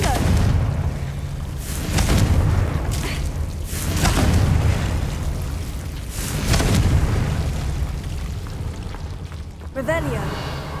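Confringo blasting spells explode in the Hogwarts Legacy video game, several deep rumbling booms arriving every couple of seconds over continuous background game sound.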